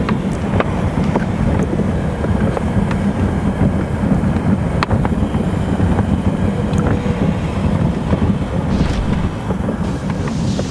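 A toy Barbie Jeep rolls down a pavement hill, heard as constant loud rushing rumble and wind buffeting on the microphone, steady and unbroken with scattered clicks and rattles.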